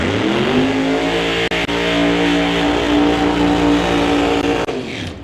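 A top sportsman drag racing car launches and accelerates hard down the track, its engine roaring loud and steady as the pitch climbs, then fading slightly at the end.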